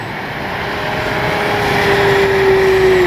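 An E-flite Piper Cherokee RC model airplane flies past on a speed run, its electric motor giving a steady buzzing drone that slowly rises in pitch and loudness.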